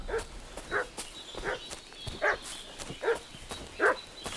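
A dog barks in a steady series of about seven separate woofs, spaced roughly half a second apart, moderately loud against a hissy outdoor background with no talking.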